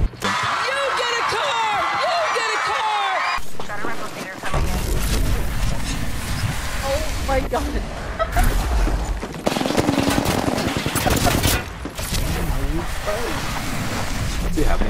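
Rapid bursts of automatic gunfire and single shots ring out during an Apex Legends firefight, mixed with game effects, while players talk and swear over the action.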